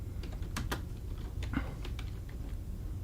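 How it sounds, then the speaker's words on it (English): Computer keyboard typing during software setup work, a few scattered keystroke clicks in short irregular bursts over a steady low background hum, close and fairly quiet, with no voices. "There's the typing back."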